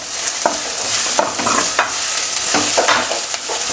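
Onions sautéing in a small amount of oil for a Sunday mutton dish, a steady sizzle with repeated scraping strokes of a spatula stirring them every half second or so, close and fairly loud.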